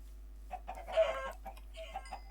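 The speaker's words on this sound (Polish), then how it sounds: "O, kurczaki, świetnie, kurczaków potrzebowałem." Chickens in the video game Minecraft cluck in a short burst of soft, repeated clucks, fairly close, with a steady low hum underneath.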